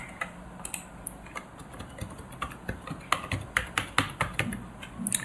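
Keys tapped on a computer keyboard while entering a password, a steady run of light clicks that grows denser and crisper toward the end, close and alone without talk.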